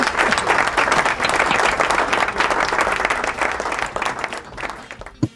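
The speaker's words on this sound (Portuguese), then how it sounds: "Palmas pra plateia virtual" Sustained applause from an audience at an event for a charity run promoting organ donation, dense and even for several seconds before thinning out and ending with a single sharp knock.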